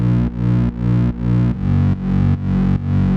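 Detuned FM sine-wave reese bass for modern trance, low-passed and driven through a hard shaper: loud, thick, buzzing sustained notes pulsing in eight even rhythmic chunks, gritty distortion over a heavy low end, no voices.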